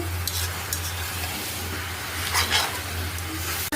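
Cabbage stir-frying in a pan with spring onion leaves and coriander leaves, a soft continuous sizzle with scraping stirring strokes and a low hum underneath, fairly quiet, no voices.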